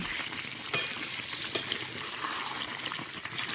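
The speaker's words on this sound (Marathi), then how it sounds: "आता या आमच्या पाण्यात चिकन चांगलं शिजतंय" Chicken sizzles steadily in a pan, cooking in its own juices without added water, a soft frying hiss with a few scraping stirs, close and continuous, with no talking.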